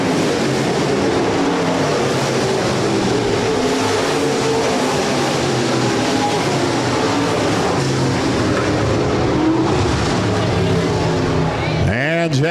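B-Modified race cars at Rapid Speedway roar continuously around the track, a loud, dense engine wash that never lets up, with an announcer talking over the public address throughout.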